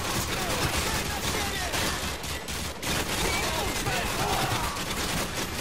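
Video game gunfire in Modern Warfare 2 comes as dense, continuous bursts of rapid shots with a few brief lulls, loud throughout, while a voice speaks over it.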